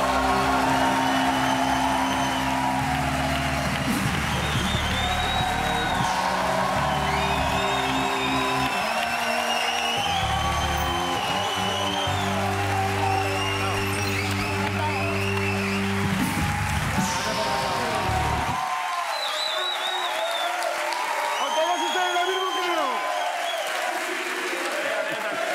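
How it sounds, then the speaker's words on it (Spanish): A studio audience on a Spanish late-night talk show applauds and cheers for Antonio Resines, a long, loud, continuous burst of clapping and whoops, first over music that cuts out partway through. "pues un aplauso para Antonio Resines, por favor"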